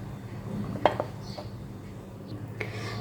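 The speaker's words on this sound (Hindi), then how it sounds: "अब इसमें केक मोल्ड रख दूँगी" A cake mould set down inside a preheated clay pot for baking an eggless chocolate cake without an oven, giving one sharp metallic clink followed by a softer knock and a faint later clatter over low background hum.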